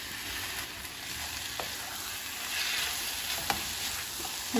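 Medium tomatoes sizzle and fry in a pan for mutton biryani, a steady hiss with a few soft stirring knocks, no voices.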